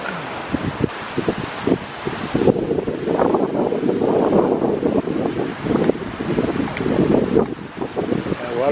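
Gusting Hurricane Francine wind whips through Algiers, Louisiana, blasting the microphone in loud surging waves with rustling debris, rising and falling over several seconds.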